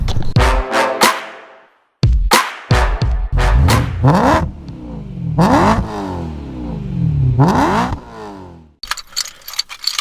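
A Lotus Evora 400 engine revs hard and repeatedly on country roads, its pitch sweeping up and down through gear changes, loud and close.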